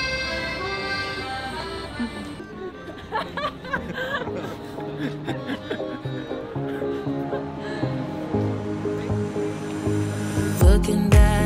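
Waves washing onto a beach at Liepāja, Latvia, a continuous moderate surf rush with voices and laughter mixed in, and a louder burst near the end.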